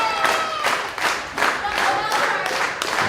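Wrestling crowd at an indoor independent wrestling show cheering and clapping to rally behind a wrestler, a loud, dense roar with rhythmic surges of claps throughout.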